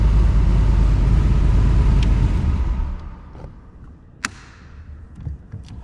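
A 1965 Shelby Cobra engine runs with a loud, deep, aggressive rumble that drops to a lower idle partway through, with a few sharp clicks near the end.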